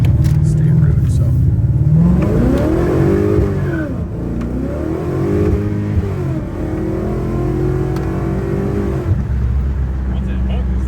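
A Ford Coyote V8 swapped into a budget car pulls hard on a state road, engine rising through rapid upshifts in repeated sweeping climbs, loud and close from inside, with people talking over it.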